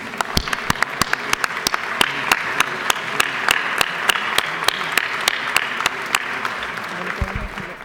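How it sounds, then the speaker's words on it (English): Applause fills the Georgia House of Representatives chamber during a legislative session, a steady roomful of clapping with sharp individual claps standing out near the microphone, sustained throughout before trailing off at the end. "So please give them a round of applause."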